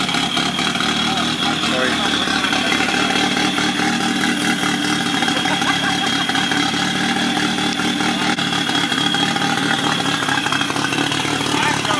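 A Toyota 86 idles with a choppy, uneven engine note at a car meet. The steady mid-pitched chop continues for the whole stretch, with a brief spoken word over it and crowd background.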